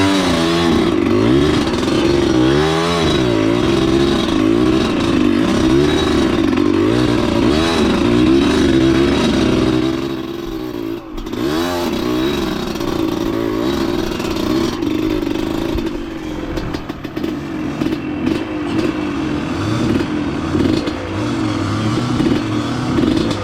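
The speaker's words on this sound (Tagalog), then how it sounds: "Parang nalulunod yung motor natin." A motorcycle engine sputters and surges while riding, as if flooding; loud, close uneven revving runs throughout with a brief dip midway.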